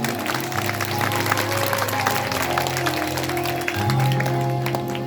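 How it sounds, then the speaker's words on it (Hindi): An audience at a Bhagavat Katha religious discourse claps, a moderate, steady patter of applause under sustained devotional music with a faint hum of the crowd. "ताली बजा दो।"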